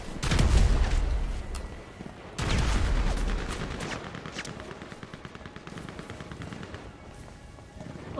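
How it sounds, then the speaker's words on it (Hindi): Gunfire in the video game GTA 5 comes as two heavy bursts of loud blasts, followed by a long stretch of rapid, fainter automatic shots. "फ्रैंकलिन आ गया हो तो इसीलिए गोलियाँ चल रही हैं"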